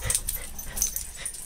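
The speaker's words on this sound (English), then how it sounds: "You gonna bark at me again?" A pet dog at home near feeding time gives close, fairly loud vocalizing: a string of short, breathy yips and whiny, wheezing sounds running continuously through the moment, with no talking.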